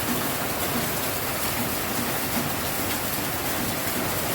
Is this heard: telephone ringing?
no